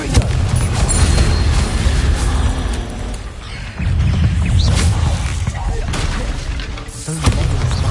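Confringo spell explosions from the Hogwarts Legacy video game: dense, rumbling booming blasts fill the scene, with a brief drop in the middle before another heavy burst, under a speaking voice.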